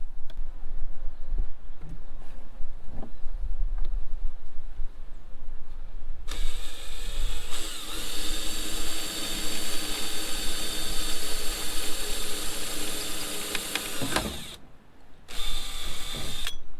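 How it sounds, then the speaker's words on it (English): A power drill runs steadily and loudly for several seconds, drilling holes to bolt up an Anderson plug, with lighter mechanical handling noise before it and a brief pause near the end before the drilling resumes. "I'll make a couple of holes, and then I will just bolt it up on there"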